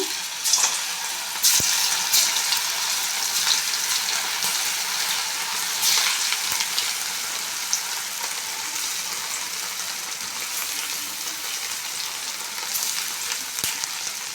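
Chicken kebabs fry in hot oil, giving a steady, bright sizzle with scattered crackles and pops, fairly close and continuous with no voices.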